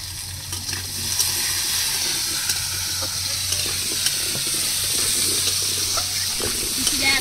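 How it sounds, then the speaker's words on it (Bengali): Potatoes sizzling in a pan with a little water, salt and turmeric, giving a steady loud hiss and crackle with occasional stirring scrapes, while a person talks quietly in the background. "হালকা একটু জল। লবণ হলুদ দিয়ে আলুগুলো ভেজে নেব।"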